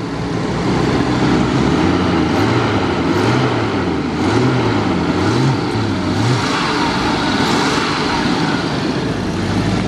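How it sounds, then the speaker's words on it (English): A 1995 Jaguar XJS V12 convertible's engine rumbles loudly up close, with the throttle blipped in several repeated revs rising and falling over a steady idle. "A great running engine, sounds great."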